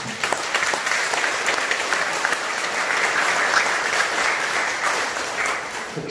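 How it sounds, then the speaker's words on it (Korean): Warm applause from a temple congregation in a Buddhist temple lobby for the members who recited the Diamond Sutra, steady dense clapping sustained without a break for about six seconds, with no speech over it. "우리 형제분들에게 다시 한번 뜨거운 박수 부탁드립니다"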